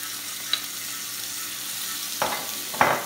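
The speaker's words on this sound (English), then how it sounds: "with a little bit of oil, I'm going to soften the carrot the garlic" Carrot and garlic sizzle gently in a little oil in a pan, with a steady soft fry and a couple of brief scraping stirs near the end.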